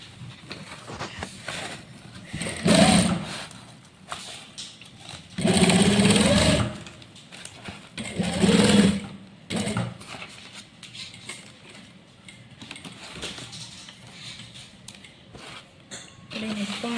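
A sewing machine stitches a folded half-inch hem while making a lunch bag, running in several loud whirring bursts of a few seconds each, separated by quieter pauses.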